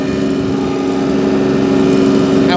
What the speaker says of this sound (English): This is that engine startup. Isn't that a fabulous sound? That's the new Stage 5 engines.